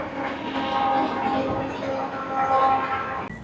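Train hauled by a WAP 5 electric locomotive passing near a river with a rail bridge, a steady continuous rumble and rail noise lasting throughout, fairly close, ending with a sharp clunk.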